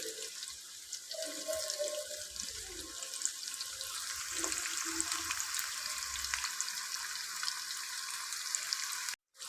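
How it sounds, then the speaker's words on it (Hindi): Onions frying in a pot for desi chicken shorba, a steady close sizzle and hiss that runs without break and cuts off abruptly at the end. "प्याज को सुनहरा होने तक भून लेंगे"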